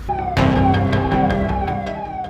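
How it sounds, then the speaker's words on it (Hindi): Police vehicle sirens wail on a road in Uttarakhand, loud and close. Sweeping tones rise and fall continuously and layer over each other, with road and engine noise underneath. "सड़कों पर दौड़ रही पुलिस की गाड़ियां और सायरन की साएं"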